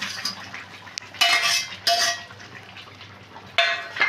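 Fried rupchand fish tipped into a pot of potato curry, with several loud clattering knocks of utensil against metal pot between quieter bubbling, no voices.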